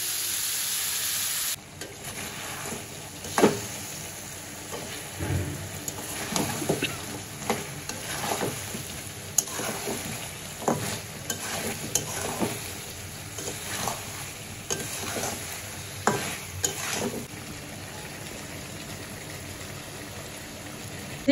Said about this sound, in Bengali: এখন মাংসটাকে কষাই নিব আর একটু আলু দিব